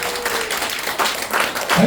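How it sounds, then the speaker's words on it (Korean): Brief audience applause at a Korean marketing lecture, a dense steady patter of clapping throughout with a faint voice near the end. "박수가"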